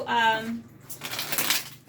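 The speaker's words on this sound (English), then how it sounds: "So let's shuffle about 2 more times." Tarot cards shuffled in a deck, producing a run of crisp riffling clatter mid-clip after a brief voice, close and moderately loud.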